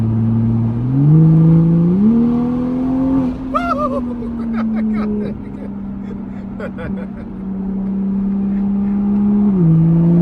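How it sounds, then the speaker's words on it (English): A 2021 Toyota GR Supra 3.0 engine heard from inside the cabin, its low drone rising and falling as it revs and shifts, with people talking over it. "You might get even some sounds from the car, maybe."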